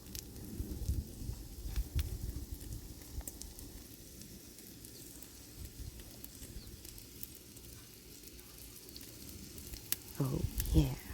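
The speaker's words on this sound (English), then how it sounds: "So this is a lava stone that I'm cooking on." Steak sizzles on a lava stone with a faint, steady crackle and hiss, broken by occasional sharper pops and a brief flurry near the end, and low talk mixed in underneath.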